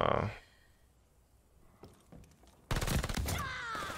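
Gunfire in the video game Call of Duty Vanguard, with a loud burst at the start, a few scattered shots, then a sustained barrage of rapid shots at the end, against a faint voice.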